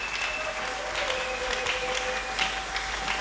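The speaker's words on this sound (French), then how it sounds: "Acclamons très fort pour le roi des morts." A church congregation applauds loudly, a dense and continuous patter of many hands clapping, with a faint sustained tone running underneath.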